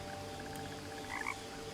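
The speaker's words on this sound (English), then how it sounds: "Pretty little froggy pond." Frogs croak at a pond in What Remains of Edith Finch, a steady chorus of rapid repeated croaks with a couple of louder nearby calls over a constant low background hum.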